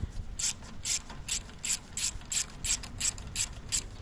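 A ratchet with a 10 mm socket clicks in quick bursts of about a dozen strokes while a bracket comes off a 2009-2018 Ram 1500 near the radiator. The clicks are close and crisp, with no voices.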